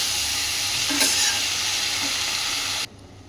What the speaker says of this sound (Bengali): এবার এখানে সেই ওল গাছের ডাঁটাগুলো দিয়ে দিলাম